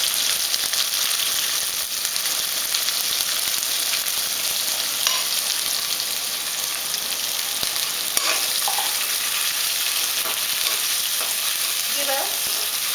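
Chopped onion, one large, sizzles steadily in a pan while being stirred, a constant close hiss with occasional soft scrapes and clicks of the utensil, no talking.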